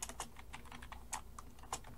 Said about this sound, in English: and we're going to type df